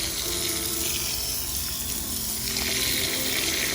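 A garden hose sprays water steadily onto a strawberry planter, a loud, close, continuous hiss and splash without pause.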